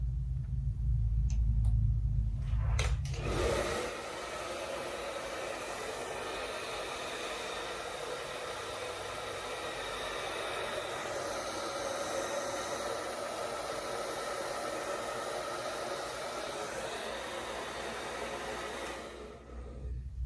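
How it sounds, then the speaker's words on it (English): A blow dryer runs steadily on curly hair styled with Irish Sea Moss Gel, switching on with a rush after a low rumble and holding a loud, even roar until it cuts off near the end. "Turn the blow dryer off, let the hair cool in that position"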